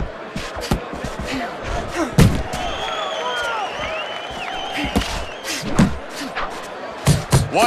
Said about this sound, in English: What an excellent two-punch combo by Wade.